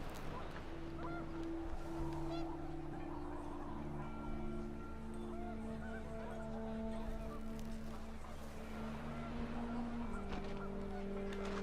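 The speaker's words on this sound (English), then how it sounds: "panicked geese appeared and quickly went" Panicked geese honking in the video game What Remains of Edith Finch, with repeated overlapping calls under a sustained musical drone, fairly quiet and steady throughout, with no talking.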